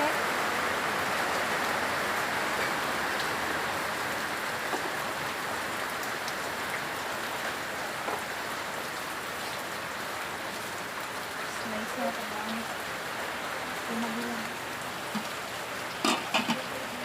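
Heavy rain pours steadily around an outdoor dirty kitchen in a dense, even hiss lasting the whole clip, with a few faint clatters near the end.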